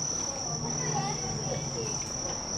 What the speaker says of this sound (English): Do you think they're real crickets?